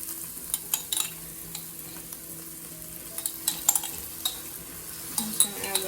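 Garlic sizzling in a hot pan, a steady low frying hiss broken by sharp clicks and scrapes of stirring utensils.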